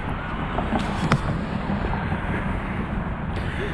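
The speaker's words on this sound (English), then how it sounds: "It's a bit windy." Wind gusting steadily across an open trail on a spring hike, a broad continuous rumble buffeting the microphone at moderate loudness with no voices.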